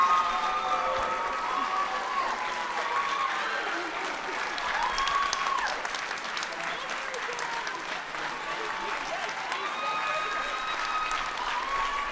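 Applause and some cheering from a crowd at a Johnson County Community College fashion show, a steady wash of clapping with occasional whoops and voices mixed through it.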